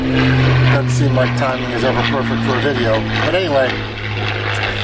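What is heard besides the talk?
propeller airplane flying overhead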